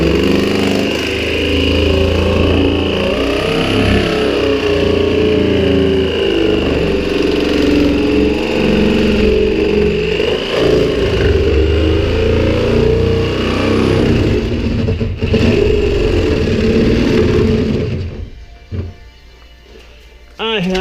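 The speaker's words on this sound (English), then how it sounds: "But now I use your trusty jigsaw." A jigsaw cuts through a plastic IBC tote, a loud, steady motor whine with a rough buzzing edge that runs almost without a break before cutting out near the end. Voices may sound faintly under the saw.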